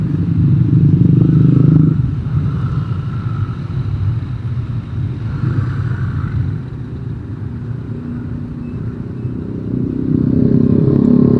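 Congested road traffic of motorcycles and cars near the Karanganyar gateway on the Tawangmangu route, a close rumble of engines that drops after a louder opening burst, with some clatter and scraping, then rises again near the end.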